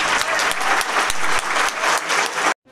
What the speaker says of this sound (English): show her how grateful you are by giving a great big round of applause.